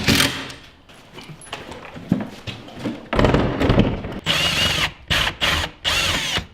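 A power drill drives screws to fix a mounting plate onto a wall stud with drywall anchors, giving loud, close bursts of whirring with thuds and pauses between runs.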